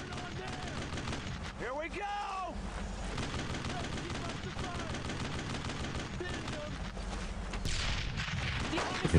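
Tank and battlefield gunfire in the World War II video game Brothers in Arms: Road to Hill 30, a dense rattle of shots and bursts over a rumbling din, sustained throughout with a louder crack at the end.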